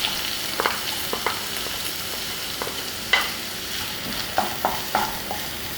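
Finely chopped onions fry in butter and a little oil for kadai paneer, giving a steady close sizzle broken by scattered clicks and scrapes of stirring.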